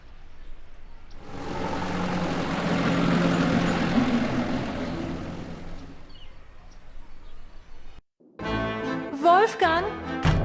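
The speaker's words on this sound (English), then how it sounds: "Gabriel picks up his tickets at the airport and boards a plane for Munich." Airplane flight to Munich in the adventure game Gabriel Knight: a loud, steady engine roar rises and swells for about five seconds, then cuts out before a voice begins speaking at the end.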